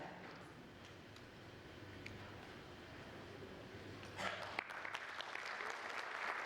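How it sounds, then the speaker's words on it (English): Audience applause at a talk on building India's quality culture, a steady, moderate wash of clapping that swells somewhat louder near the end. "Huge round of applause."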